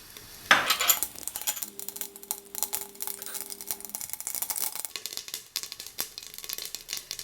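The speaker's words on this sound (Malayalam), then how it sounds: "നമുക്കതിനകത്തേക്ക് ഇത്തിരി കടുക് ഇട്ട് പൊട്ടിക്കാം." Mustard seeds splutter in hot coconut oil in a pan, a close, busy crackle of small pops with a few metallic clinks of a spoon against the pan.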